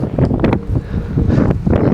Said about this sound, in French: Il y a du vent, il y a du rih.